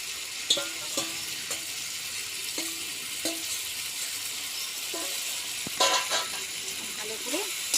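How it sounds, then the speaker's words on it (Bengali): Fried potatoes and cauliflower sauté with spices in a pan for a catla fish curry, a steady sizzle with spatula scrapes, while a voice speaks and faint vehicle horns sound in the background. "মশলাটা কষানো হয়ে গেছে। এবারে আমি এই ভাজা আলু আর কপিটা দিয়ে দেবো।"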